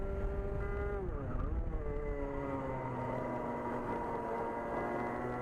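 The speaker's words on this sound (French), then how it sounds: "Là j'entends son moteur, hein" A two-stroke racing kart engine on the Belval track whines at high pitch and sweeps down, then climbs again, with a rival kart's engine droning just behind.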